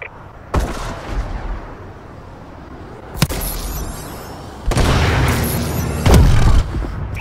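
Missile strike explosions in Call of Duty: Advanced Warfare land in sharp separate booms, one near half a second, another around three seconds, then a heavier rumbling barrage between five and seven seconds.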